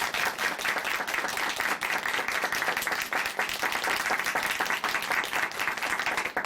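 Studio audience clapping on a Korean Christian television program after a guest's testimony, a strong sustained round of applause with no speech over it.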